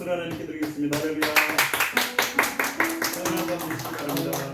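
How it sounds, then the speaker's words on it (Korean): Congregation clapping together at a Friday praise worship service in a church, a dense wash of many hands with a steady rhythmic beat of claps running through it, mixed with music, sustained and fairly loud. "모든 영광 박수로 하나님께 드리겠습니다."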